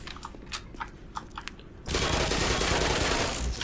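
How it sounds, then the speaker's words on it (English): Gunfire in the game Black Mesa: a few sharp clicks, then a sustained, loud burst of rapid automatic shots that fills the second half. "And then we're gonna shoot it a bunch."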